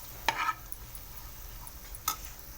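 Scrambled egg with chili powder is stirred in a pan: two quick scraping strokes about two seconds apart over a faint low sizzle, close and fairly quiet.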